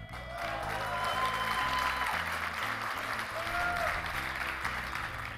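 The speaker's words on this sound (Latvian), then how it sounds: "Aplausi nesabeidzās no breidī." A stage-event audience in Latvia applauds steadily as a guest is called up: dense, continuous clapping at full strength throughout, with low music faintly underneath.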